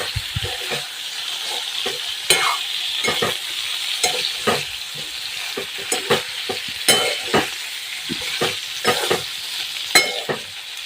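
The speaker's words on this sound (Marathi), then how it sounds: "कारले परत छान असं मिक्स करून घ्यायचे" Sliced bitter gourd fries in a pan while being stirred and mixed, with an even sizzle under frequent scraping and clattering strokes of the spoon, close and fairly loud, with no talking.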